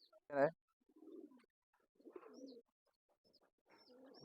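Pigeons in a pigeon loft give a few soft, separate cooing calls with quiet gaps between them, close and faint in an otherwise silent space.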